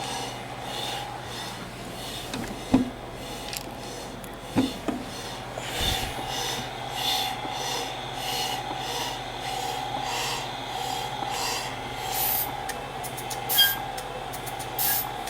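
A Medela Lactina breast pump runs in suction mode, giving a steady mechanical hum and hiss with a few sharp clicks and thumps, fairly loud and near, with no speech.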